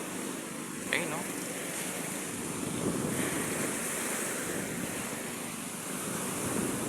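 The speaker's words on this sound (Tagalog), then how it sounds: "malakas yung alon ngayon" Strong ocean waves surge and wash steadily near fishing boats out at sea, a continuous broad roar of surf mixed with wind buffeting the microphone, with a voice talking faintly at moments.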